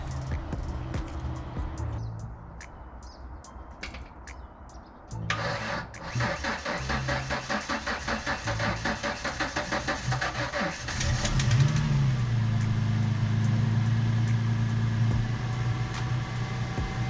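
A Mitsubishi 3000 GT engine, run off a jump from a 300ZX battery, turns over and catches, then runs with a steady, rising mechanical drone. The sound is close, continuous and fairly loud, with no talking over it.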